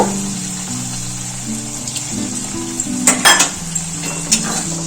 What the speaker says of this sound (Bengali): মশলা খুব ভালো করে কষানো হয়ে গেছে তেল ছেড়ে গেছে